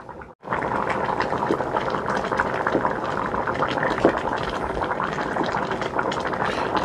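Wine simmering in an ossobuco pot, a steady close bubbling and hissing that runs continuously after a brief quiet start, with small pops scattered throughout.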